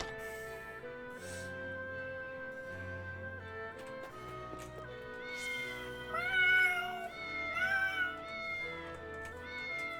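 Cats meowing in the video game Triangle Strategy, several mewing calls rising over steady background game music, moderately loud and clear.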